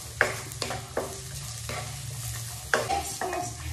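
Sliced carrots sizzle in a hot pan for pancit canton, with repeated stirring scrapes every second or so over a steady frying hiss, close and moderately loud with no talk.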